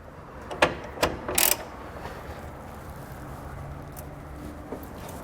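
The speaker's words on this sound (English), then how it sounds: "So we'll take a 21mm socket, and chances are you're going to need an extension to get to that as well." A ratchet fitted with a 21mm socket and extension clicks on a bumper beam nut of a 2018 Ford F-150: a few sharp metallic clicks close together early on, one more faint click later, then quiet room tone.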